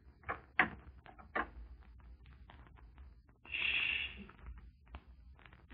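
Knocking on a door at an inn in a radio drama: a few sharp, separate raps near the start, then a brief soft hiss and quieter shuffling sounds in a hushed room.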